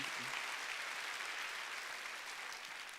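Congregation applause during a church sermon, an even, sustained wash of clapping heard at a distance and quite faint, slowly fading toward the end.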